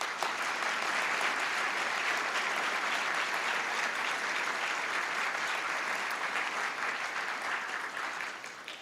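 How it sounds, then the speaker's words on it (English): A crowd at a district attorney's swearing-in ceremony gives sustained applause, a thick continuous roar of clapping that holds steady for several seconds before easing slightly at the end. "and that deserves a round of applause."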